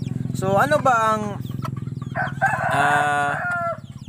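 A bantam hen clucks close by in short bursts, and a person talks in Filipino between and over the calls.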